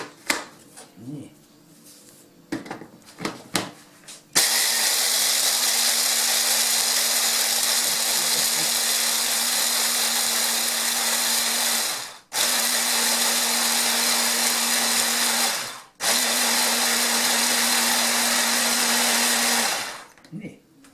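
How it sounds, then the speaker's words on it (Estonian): A kitchen blender grinds nuts into powder for gingerbread dough, a loud steady whir running for about fifteen seconds with two brief dips where the motor pauses, after quieter handling noises at the start. "nüüd ma jahvatan ära pähklid"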